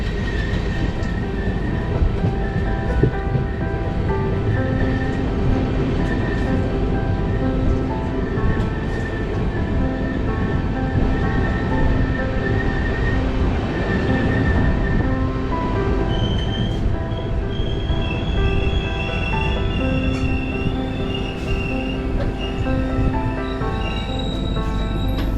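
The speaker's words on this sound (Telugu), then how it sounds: "సో మార్నింగ్ 8 o'clock వెళ్ళిన ట్రైన్ యాక్చువల్లీ లేట్గా వెళ్తుంది, 1 hour లేట్ ఉంది" A Humsafar Express runs steadily on the rails between Gorakhpur and the Nepal border, a continuous close rumble with rolling wheel noise and thin squealing tones. It lasts throughout, with no voices.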